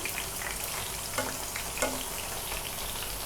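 Chicken pieces deep-fry in oil for orange chicken, a continuous bubbling sizzle close up with a couple of soft utensil clinks, steady and unbroken, no talking.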